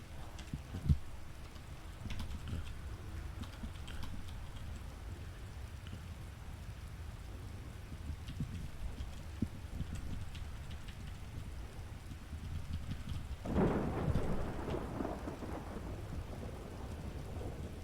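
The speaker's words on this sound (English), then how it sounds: "the storm is about to hit" Thunderstorm ambience in a roleplay video game, steady rain hiss with low rumbling thunder throughout and a louder swelling roll near the end, fairly quiet and without talk.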